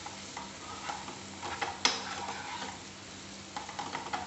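Chopped onions cooking in a covered pan for a masala lauki sabji, with a soft steady sizzle, light stirring and one sharp clink of a utensil, with no talk.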